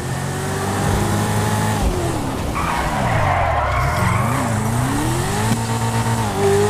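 In the video game GTA 5, a car skids through a turn with a long, continuous tire squeal over a steady engine drone. The squeal is loud and unbroken, with no talking.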